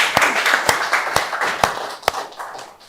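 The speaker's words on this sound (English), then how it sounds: "I think we should clap for them" An audience at a postgraduate research workshop applauds the MCs with a dense, steady patter of clapping, marked by several sharp, louder individual claps standing out from the crowd.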